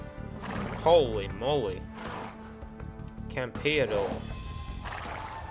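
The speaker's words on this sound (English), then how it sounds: "Yeah, I'll hop on your horse." In Age of Empires II: Definitive Edition, on the El Cid campaign, horses neigh in several loud whinnies among clip-clopping hooves and battle clatter, while voices speak over them.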